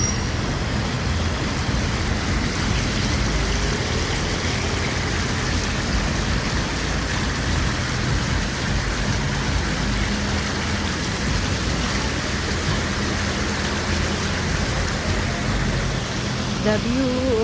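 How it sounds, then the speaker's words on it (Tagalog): Water splashing and cascading at the Sheung Wan fountain, a loud, dense, unbroken rushing hiss like heavy rain, filling the whole stretch with faint traffic beneath. "The view of the fountain."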